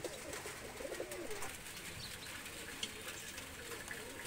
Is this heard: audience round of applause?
no